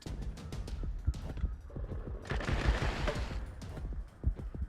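Gunfire in the video game Wasteland 3 comes as a rapid burst of sharp repeated shots, several close together, followed by a brief louder noisy blast in the middle, with no talking.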